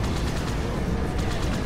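Dense, continuous rapid-fire gunfire from the video game Halo 2, loud and close, with steady repeating shots and no talking.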